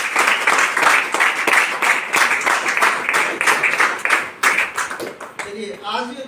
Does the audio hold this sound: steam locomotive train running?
no